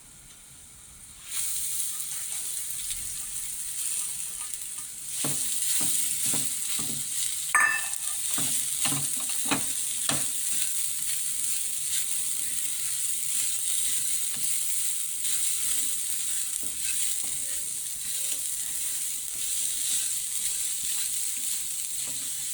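Grated coconut frying with small local and Byadgi chillies in a pan over a low flame, a steady soft sizzle with intermittent scraping and stirring clicks up close, no talk.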